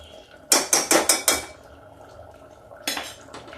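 Five quick metallic clanks in a row as a pot of cooked saag is taken off the stove and set down, then a pause and two more clinks, close and sharp.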